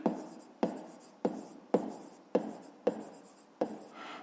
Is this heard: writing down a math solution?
yes